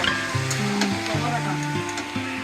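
Food sizzles and fries steadily in a pan during home cooking, a continuous close crackle with soft stirring and a low repeating tonal hum beneath it.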